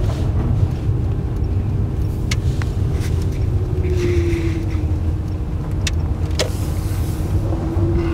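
Inside an electric Lada hatchback on the road, continuous low tyre roar and road rumble fill the cabin with no engine sound, with a few faint clicks and a brief higher whine.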